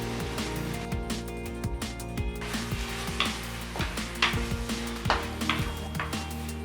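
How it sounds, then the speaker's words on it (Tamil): Chicken pieces fry with chilli powder, coriander powder and homemade curry masala in a pan, giving a steady close sizzle with repeated scraping and clinking stirs throughout, and no voice. "மசாலாவோட பச்சை வாசனை போகிற வரைக்கும் கொஞ்சம் நேரம் நல்லா ஃப்ரை பண்ணியிருக்கீங்க"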